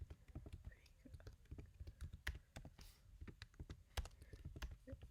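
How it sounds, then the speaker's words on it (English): Typing on a computer keyboard while entering promotional text for an online shop graphic: a steady run of close, quiet key clicks and taps at an uneven pace, with faint breathy whispering underneath. "I'm just going to type that in."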